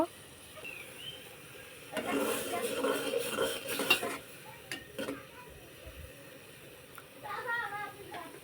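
A utensil stirs spices in a cooking pot with quiet scraping and clinking in intermittent bursts, a faint sizzle beneath, and occasional soft voices.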